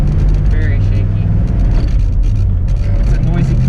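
An old car engine drones loudly and roughly throughout, with a constant rattling rumble from inside the cabin while driving.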